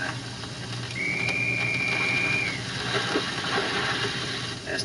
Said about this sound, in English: There's Tyne's whistle right on the nose